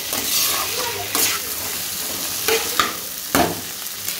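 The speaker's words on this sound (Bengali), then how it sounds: "এটা ভালো করে একটু কষিয়ে নিয়ে এটা একটু আঁচটা বাড়িয়ে দেবো গ্যাসে। ভালো করে নেড়ে চেড়ে" Soybean chunks stir-fried in a pan over a gas flame, a steady sizzle broken by several scraping spatula strokes, close and fairly loud with no talk.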